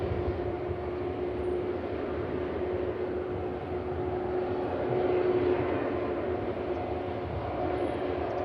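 An airliner taxiing at Manchester Airport gives a steady, droning engine roar with a sustained whine, loud and continuous throughout with no talking.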